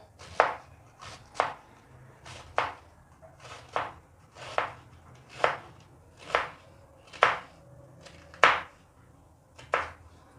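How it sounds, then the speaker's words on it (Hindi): Cabbage chopped finely with a knife on a board for chana chaat: about ten crisp, evenly spaced cuts at a steady pace, close and clear, with no talking over them. "इसको भी हम लोगों ने चॉप करना है बारीक बारीक सा।"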